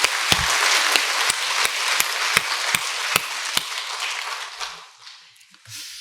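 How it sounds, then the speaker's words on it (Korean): Congregation applauding a church choir after worship at a Korean church service: a dense, close burst of clapping with sharp individual claps, thinning and fading out over several seconds. "박수 한번"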